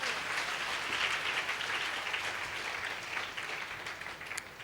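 A Sunday church congregation claps steadily in praise, a continuous mid-distance wash of many hands with a faint voice now and then.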